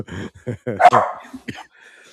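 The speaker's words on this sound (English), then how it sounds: "the dogs start barking" Several dogs bark in quick, uneven bursts, close and loud, with yips and a whimpering tone between barks, no talking over them.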